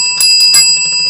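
A desk bell rings with bright, sustained metallic tones, two quick strikes close up, loud and ringing on.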